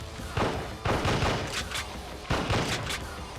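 Gunfire from the Japanese PS2 rail shooting game Combat Queen plays as dense bursts of booming shots over a steady noisy game soundtrack, with several loud volleys close together.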